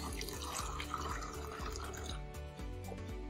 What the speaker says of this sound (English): I'm gonna go ahead and pour some of this